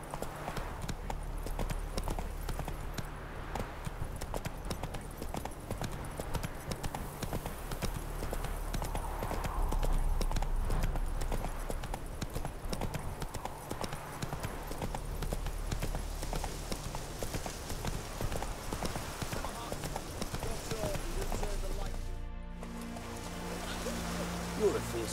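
In The Witcher 3, the horse Roach gallops along with rhythmic hoofbeats drumming continuously under game music and spoken dialogue, swelling slightly midway before a brief break near the end.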